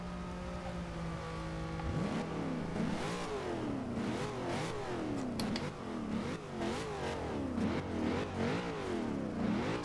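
A 2014 Chevrolet Corvette Stingray with turbos revs repeatedly in the Forza Horizon 2 racing game, a steady engine note broken by rising and falling surges, loud and close throughout with no talking.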